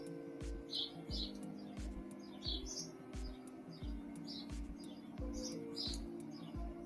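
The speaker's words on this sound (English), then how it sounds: "Look at those nice birds chirping in the background there, Danny." Birds chirp in the background as they wake at dawn, giving repeated short, bright tweets that come and go throughout, fairly faint and distant over a low rhythmic rumble.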